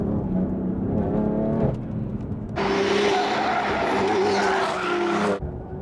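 Nissan GT-R and BMW M4 racing hard on a mountain pass road, with engine roar and a loud, sustained tire squeal through a corner lasting a few seconds, following a burst of engine sound.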